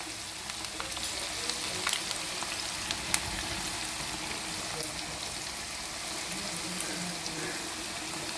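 Okra frying in plenty of oil gives a steady, dense crackling sizzle with occasional sharper pops, close and even throughout, with no talking.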